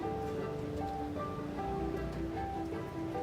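Five kilograms of chicken mince going into a large vat of hot oil for chicken kaju keema, a steady dense sizzle and crackle that stays loud and even throughout, with no talking.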